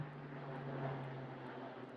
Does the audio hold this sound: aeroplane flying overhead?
yes